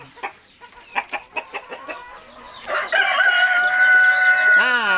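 KUB chickens in a coop on an Indonesian farm: a run of sharp clucks opens, then a loud, sustained rooster crow takes over and rises at the end, close and dominant.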